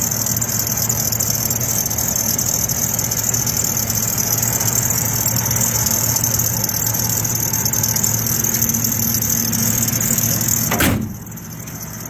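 A 1982 Jeep Wagoneer engine idles in a steady, continuous hum at close range, with a brief knock or thump near the end after which the sound drops slightly.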